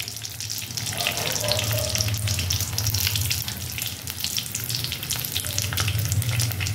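Nigella seeds fry in a small amount of hot oil in a Bengali kitchen, making a loud, close, continuous sizzle and crackle that stays steady throughout, with no talk.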